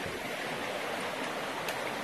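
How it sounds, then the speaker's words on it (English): Mountain river along the Appalachian Trail rushing steadily at dawn, a loud continuous broadband wash of flowing water with no gaps and no voices. "this is part of the river we were showing you from the mountain top last night"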